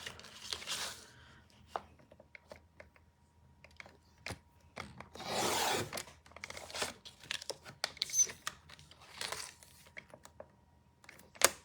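Craft foil being handled up close, with bursts of crinkling and crumpling, sharp taps and clicks, and a longer rustle midway, scattered between quiet gaps.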